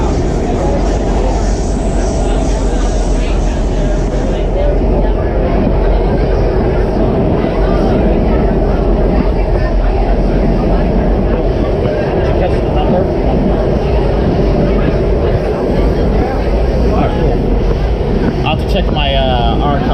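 A WMATA Kawasaki 7219 subway train on the Red Line rumbles steadily with loud, constant roaring rail and motor noise filling the car, continuous throughout with no breaks.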